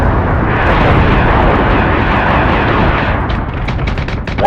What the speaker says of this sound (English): We're taking sustained fire.